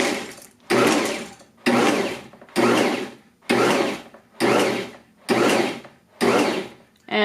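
Bosch Universal Plus stand mixer pulsing chocolate chips into cookie dough: eight short, loud motor bursts of roughly half a second each, separated by brief pauses, with an even rhythm and no talking.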